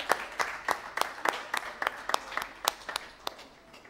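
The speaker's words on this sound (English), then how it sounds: "Please give her a round of applause as she comes to minister to us in song" A few people in a church congregation at a Sunday service clap for a singer, a sparse, irregular run of distinct, fairly faint claps rather than full applause.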